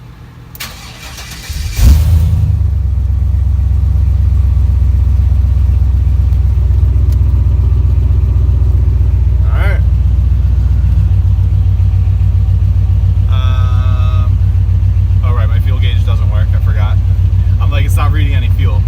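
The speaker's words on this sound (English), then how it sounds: "so the truck did in fact start" A truck engine cranks briefly, catches, and settles into a loud, steady, rumbling idle close by, with a few clicks and beeps on top later.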